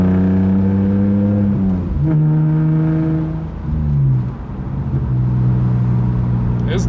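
A BMW E46 fitted with a very large aftermarket exhaust drones deep and loud, its tone stepping up and down as the revs change, with no talk over it.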